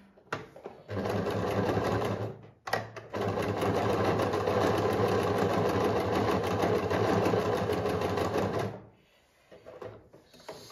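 Pfaff select 2.0 sewing machine stitching close by, running steadily in two bursts separated by a short pause, then stopping near the end, with no talk over it.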